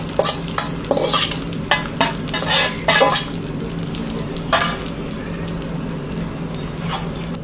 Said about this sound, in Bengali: তারপরে পেঁয়াজ বেরেস্তা দিয়ে ভালো করে নেড়ে চেড়ে